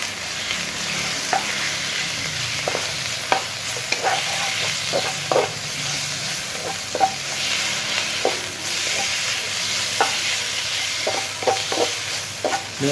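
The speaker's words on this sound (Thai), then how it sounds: "ผัดหอมใหญ่มาจนสุกแล้วนะครับ ก็จะ ใส่เนื้อเลยครับ" Thinly sliced beef frying with cooked onions in a hot pan, a steady loud sizzle broken by scattered clicks and scrapes of stirring.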